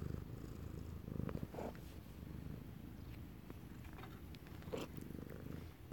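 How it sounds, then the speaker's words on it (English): A cat purring close to the microphone, a steady, low rumbling purr running continuously at soft volume with faint rhythmic pulsing and no talking. "Purr. Yep, purr."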